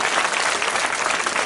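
A seated audience at a government revenue resolution camp in Bilaspur claps loudly. The dense applause is sustained and even across the brief moment, with no voices over it.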